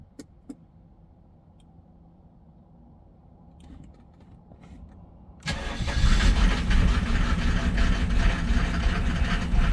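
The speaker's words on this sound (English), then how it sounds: "And it starts, this is a cold start, and it starts the first time every time." A 1987 Mercedes 300SDL (W126, OM603 diesel) cranks from cold and catches on the first try, then settles into a loud, steady diesel idle after a few quiet seconds.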